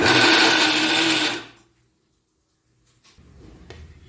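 A mixer grinder whirs loudly while grinding roasted coconut chutney, then stops abruptly, followed by a quiet pause and faint kitchen clatter.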